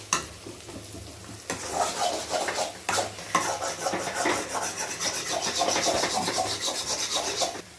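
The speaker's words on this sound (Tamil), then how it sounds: "அதனால தான் கையை விடாமல் கலரிக்கிட்டே இருக்கணும்" Leftover chapati pieces and egg are stirred continuously in a pan, making a loud, steady scraping rub with frying sizzle and no talk.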